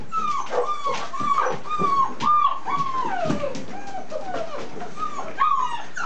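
Puppies whimper and yip in a steady run of high, wavering cries, close and fairly clear against a quiet room.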